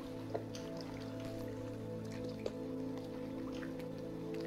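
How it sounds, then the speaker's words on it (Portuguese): Underwater sea ambience in the video game Rime: a low, steady tonal drone with scattered soft drips and bubbly plinks, no talking. "O barulho do mar é meio estranho"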